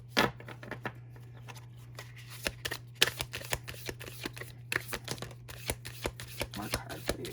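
Tarot cards are shuffled and drawn in a steady run of quick papery flicks and slaps, close to the listener, over a constant low electrical hum and with no talking.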